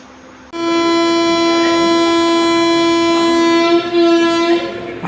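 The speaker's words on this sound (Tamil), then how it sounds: "கரெக்டாக வண்டி 5 மணிக்கு டான்னு கிளம்பிருச்சு ஈரோடு ஜங்ஷனை விட்டு" A passenger train pulls out of Erode Junction with a loud, steady horn that starts suddenly and holds for several seconds, rail noise underneath.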